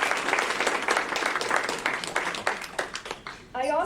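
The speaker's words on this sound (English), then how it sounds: "So why don't we give them a round of applause" An audience at a farewell ceremony applauds the students' parents and guardians, with dense sustained clapping that thins out toward the end as a voice begins speaking.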